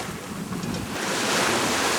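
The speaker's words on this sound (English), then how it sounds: "There is actually enough wind, but there's so much waves that the sails won't hold their wind." Ocean waves and strong wind at sea aboard a sailboat in the Pacific, a loud, continuous rushing wash that swells and thickens in the second half, with no voices.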